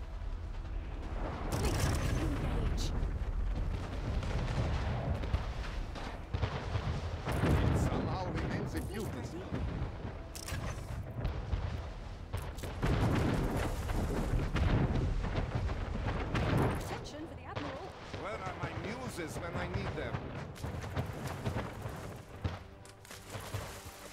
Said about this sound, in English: Our flak monitors, shoot them out of the sky.